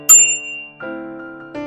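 A bell on a Teslica B2H folding e-bike rings with one bright, loud ding whose tone lingers, followed by two more metallic rings that sustain clearly, close and alone.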